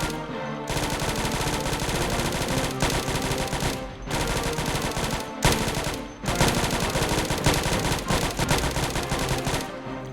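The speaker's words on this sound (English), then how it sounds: "so I open fire" Automatic gunfire from a player shooting zombies at the edge of a mall in Project Zomboid, loud and continuous rapid bursts with a few brief pauses, no talking.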